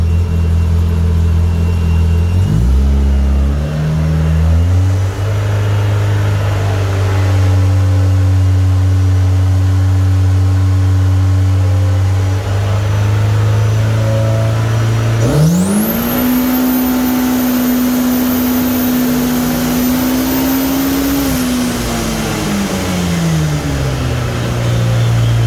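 A turbocharged Polaris RZR Pro R on a dyno, running an entry-level turbo kit on 91 pump gas, drones loudly. Its pitch steps up through several steady holds, then climbs to a long sustained high rev with a rising turbo whine before easing back.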